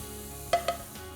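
A spoon scrapes twice through black pepper and garam masala in a cooking pan, two short, close scrapes over a faint low sizzle, with no voices.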